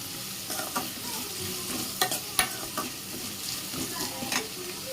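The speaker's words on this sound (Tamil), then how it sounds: "வெங்காயம் கலர் சேஞ்ச் ஆகிற வரைக்கும் கொஞ்சம் நல்லா வதக்கிக்கலாம்" Onions and curry leaves sautéing in a pan for a vegetable semiya biryani, a continuous sizzle broken by sharp spatula scrapes and clacks against the pan, close and fairly loud, no talking.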